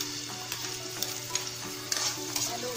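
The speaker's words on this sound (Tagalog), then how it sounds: "Lagay natin yung ating bawang." Garlic sautéing in a hot pan while cooking ginisang alugbati, a steady close sizzle and crackle with a few brief scraping stirs, no talking.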